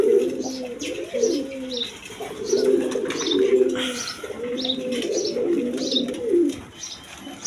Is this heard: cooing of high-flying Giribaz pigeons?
yes